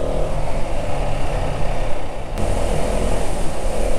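A dual-sport adventure motorcycle rides off-road on dirt trails in the Flinders Ranges of Australia, its engine droning steadily and close with wind rush and crunching terrain noise throughout, no voices.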